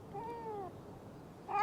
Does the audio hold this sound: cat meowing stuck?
yes